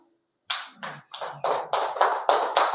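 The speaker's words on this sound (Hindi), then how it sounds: "ताली बजाओ, क्या बात है भाई" An audience at a spiritual class in Banda, Uttar Pradesh claps in unison after a brief silence, producing about eight loud rhythmic bursts of applause in quick succession.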